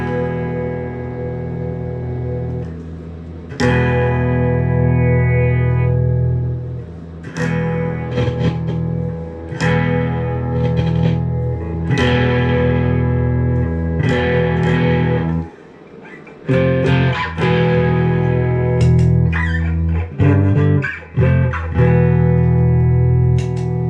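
Electric guitar through a Marshall MG100DFX amplifier's overdrive channel, a loud, gritty distorted riff of strummed chords and single notes with brief stops and restarts, played close with no talking.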